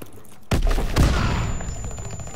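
Gunfire in the World War II shooter game Call of Duty WW2, with a light machine gun blamed, comes as a sudden loud burst of overlapping shots and thumps, then a dense rolling fusillade that decays into a lingering battlefield rumble.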